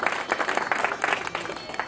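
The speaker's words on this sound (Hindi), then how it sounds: "एक बार जोरदार तालियों के साथ सभी माननीय" A gathered crowd applauds to welcome a minister at a local event, steady mixed clapping from many people at moderate distance, uneven and continuous.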